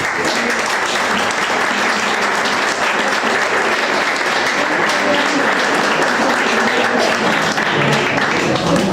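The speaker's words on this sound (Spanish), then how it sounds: "Pido un aplauso para ella." An audience at a concert by a choir of the Centro Asturiano de Madrid claps for one of the choir members, a loud, dense and sustained round of applause lasting throughout.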